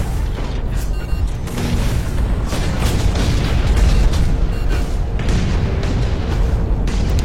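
Video game combat fills the mix with loud, continuous gunfire and booming missile explosions, dense and rumbling throughout with no pauses.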